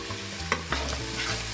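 Onions with a little cabbage stirred around in a hot pan for cabbage pasta: a close, continuous sizzle of frying with a few sharp scraping and clattering knocks from the stirring utensil.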